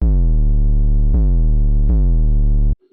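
Three deep synth bass notes in a row, each starting with a quick downward pitch sweep before settling into a low hum. Then the sound cuts off abruptly.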